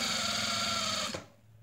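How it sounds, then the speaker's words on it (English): A lock stitch sewing machine runs a fast, steady whirring stitch along a onesie sleeve seam, close and loud, then cuts off abruptly into quiet. "the lock stitch machine and reversing at the end"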